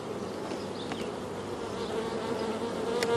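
A dense swarm of honey bees hums steadily around an open beehive as boxes are stacked over a queen excluder, a loud continuous close buzz that swells slightly toward the end.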